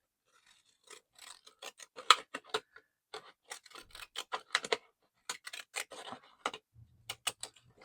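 Scissors snip through paper for a craft project in a string of crisp, close cuts with short pauses between them and no talking.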